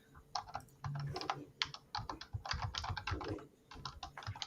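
Rapid clacking of keys on a computer keyboard, typed in quick irregular bursts close to the microphone during an online debate call, with no voices over it.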